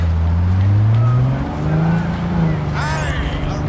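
A car engine in Cyberpunk 2077 revs up and holds a loud, close drone as the vehicle speeds along, with voices talking over it.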